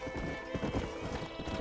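Horse hooves in the Red Dead Redemption video game clop at a gallop in a quick, rhythmic beat, moderately close, with a brief whinny amid the hoofbeats.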